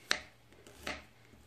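A knife chopping peeled garlic cloves finely on a cutting board, two distinct sharp cuts about three-quarters of a second apart, fairly close and clear with nothing else over them.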